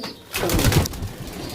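Pigeons of a Rajasthani breed at a loft, with soft cooing and bird calls rising and swelling midway over a rustling background, fairly close and no talking.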